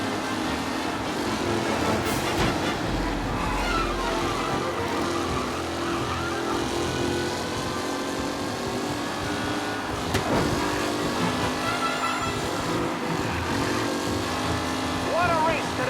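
Race cars roar around a track in Mafia Definitive Edition, engines droning and revving steadily throughout at loud volume, with crowd and commentary-like voices mixed in and a sharp crash-like burst near the middle.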